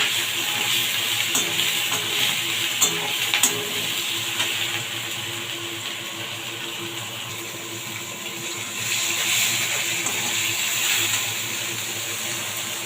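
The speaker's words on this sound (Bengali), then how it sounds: "টমেটো কুচি আর লঙ্কা দিয়ে দিলাম। দিয়ে নাড়াচাড়া করলাম।" Grated ginger, chopped tomato and green chili sizzle in a pan while being stirred, a steady broad hiss with occasional scraping clicks, fairly loud and close throughout, no voices.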